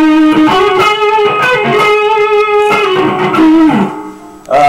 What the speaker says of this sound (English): You can add in a bit of the overdrive there for some lead.